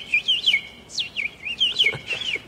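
A person whistles an imitation of bird chirping: a string of rising and falling tweets and trills, fairly close and clear, with a few short pauses between the phrases and no talking.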